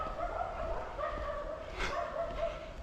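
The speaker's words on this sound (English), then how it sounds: "these dogs, every time I walk by here, they hear me talking and they go crazy" Several dogs bark and yip behind a fence along a walking route, agitated and fairly steady over a noisy outdoor background, with no talking in between.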